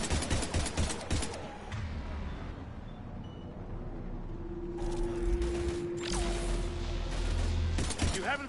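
Gunfire in the video game Mass Effect 3 during a battle with Husks, bursts of rapid shots at the start and again later, mixed with mechanical clanks and rumbling, with voices speaking in between.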